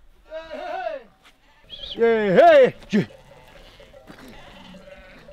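Sheep bleating on a farm in several harmonic, wavering calls, one loud and close in the middle, amid brief human voices and background noise.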